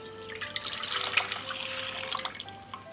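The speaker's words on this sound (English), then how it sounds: "into a pot on a medium heat," Milk poured into a pot on medium heat for eggnog, a steady splashing liquid pour heard close up, running continuously for a few seconds with no voices.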